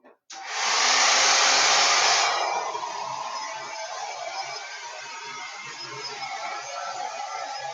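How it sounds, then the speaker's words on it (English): A hair dryer blows a loud, steady rush of air at close range while drying chalk paste on a craft surface, strongest for the first two seconds, then continuing slightly softer for the rest. "So I'm going to blow dry it real quick."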